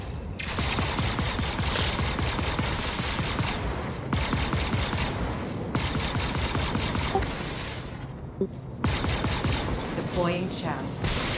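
Dense, continuous automatic gunfire and explosive booms from a ship and ground troops fill a video game battle, loud and sustained with brief drops, under occasional talk.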